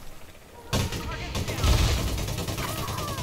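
A grenade launcher fires in Elite Dangerous Odyssey with a sudden loud burst, followed by a heavier blast and rumbling aftermath, close and punchy amid ongoing combat noise.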